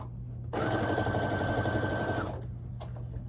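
A sewing machine stitches scrap quilt pieces together in a steady, fast mechanical run of nearly two seconds. The whir starts and stops abruptly and is heard close and alone over a low room hum.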